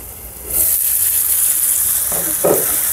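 Ripe tomatoes cooking in a pan for tomato upma: a loud, close, steady sizzle swells in after a quiet start and holds, with a couple of brief stirring knocks near the end, no voices.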